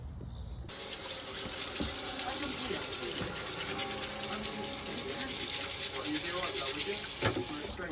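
Water runs steadily from a tap, a broad continuous wash that starts abruptly after a short quieter moment and holds at an even level, with a few brief knocks over it.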